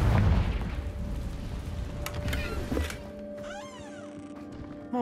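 A Confringo fire spell explodes in Hogwarts Legacy with a deep, muffled boom at the outset, fading into a lingering hum and a thin rising and falling whine, all fairly quiet.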